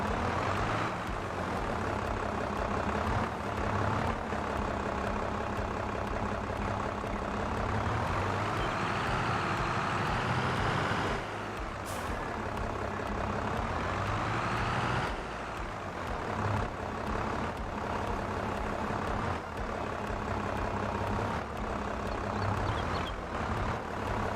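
A tractor engine in Farming Simulator 22 drones loudly and steadily, a continuous low rumble that shifts briefly in pitch midway as if revving, with no speech over it.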